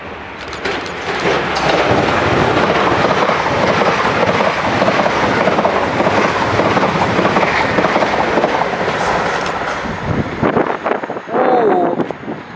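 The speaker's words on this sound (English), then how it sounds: "Alright, passing through now, we've got a triple four. Service to Weymouth, I think." A Class 444 electric train on a Weymouth service passes through Eastleigh station on the South Western Main Line, a loud, close rumble with clattering wheels and wind buffeting that cuts off sharply near the end.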